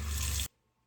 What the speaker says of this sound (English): the sink pulls up, and I have running hot water